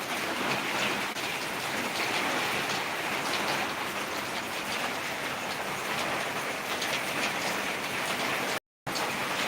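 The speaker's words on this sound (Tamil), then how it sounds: "எஸ், மழை சவுண்ட்" Heavy rain pours down steadily, a dense, loud, continuous hiss and patter filling the whole stretch with no voices, broken only by a brief dropout near the end.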